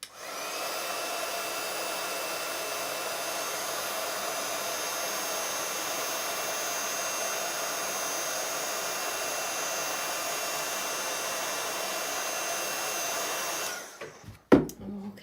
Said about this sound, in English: So I'll grab my little heat tool.